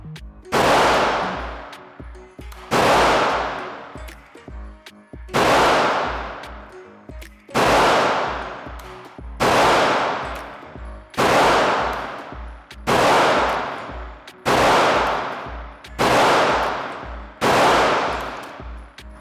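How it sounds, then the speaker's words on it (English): Ten sharp Walther PDP pistol shots are fired at a target outdoors, one about every two seconds, each a loud close crack trailing into a brief decay. "I'm gonna put 10 more rounds through it on a separate target"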